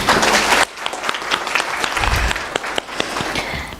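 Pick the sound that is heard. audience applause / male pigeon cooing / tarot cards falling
audience applause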